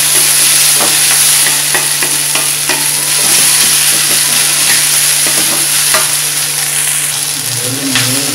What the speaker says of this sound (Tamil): பாருங்க, முள்ளங்கி வந்து ஒரு பாதி வதங்கிருச்சு.